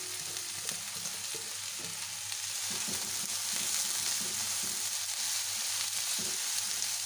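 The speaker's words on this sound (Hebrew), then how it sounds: "אני מחמם במחבת רבע כוס שמן, מוסיף שני בצלים קצוצים ומתגן אותם" Two chopped onions fry in a quarter cup of hot oil in a pan, a low, even sizzle with light crackling and intermittent stirring scrapes, steady and close.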